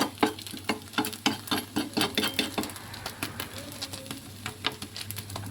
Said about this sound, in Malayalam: മുട്ട നമുക്ക് മറിച്ചിടാൻ വേണ്ടി സമയമായിട്ടുണ്ട്